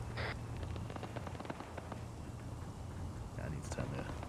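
Distant, muffled gunfire crackles in the Arma 3 battlefield: scattered pops and rattling shots over a constant rumble, with voices talking over it.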